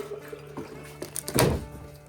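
Water dumped out of the container of a CDL Nano RO reverse-osmosis system, a short, loud splash and gush near the end after a few light knocks and handling thumps.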